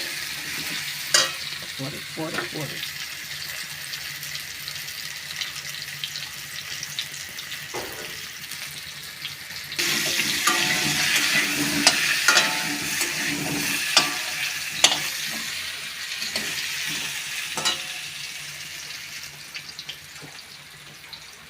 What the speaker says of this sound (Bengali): আলুগুলো একটু লাল লাল করে ভাজা করে নেব।